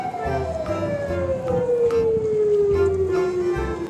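A white ambulance's siren sounds as one long, drawn-out wail that glides steadily downward in pitch, with some faint clatter and background noise beneath it.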